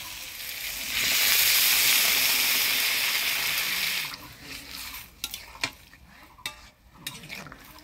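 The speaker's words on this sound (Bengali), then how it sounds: "আলুটা ভালো করে কষাই নিলাম, এবার জল দিয়ে দিই" Sautéed potatoes for alur dom sizzle loudly in a pan as water goes in, a broad hissing burst that settles after a few seconds into quieter simmering with sharp scrapes and clinks of a spoon stirring.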